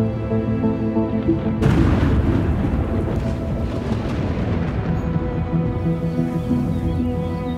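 A summer thunderstorm over a meadow, with a sudden loud crack of thunder that rolls into a long rumbling boom, heard alone over steady background sound.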